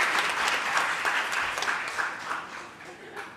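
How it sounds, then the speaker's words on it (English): Resounding applause from a seminar audience in Mumbai at a talk on PCOS, dense and continuous clapping that holds steady throughout and eases slightly at the end. "I think it should be a resounding applause"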